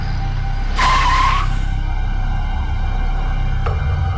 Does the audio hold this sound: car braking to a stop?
yes